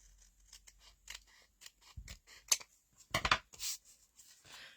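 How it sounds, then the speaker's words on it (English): Scissors snipping through a paper craft tag, a string of quiet irregular cuts with a few sharper, louder snips near the end, close and alone. "let's just trim this up then"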